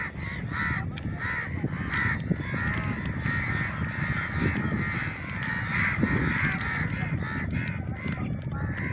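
Crows cawing repeatedly at a house in Kalpakkam, loud overlapping harsh calls throughout, several birds close by, with a busy background wash beneath.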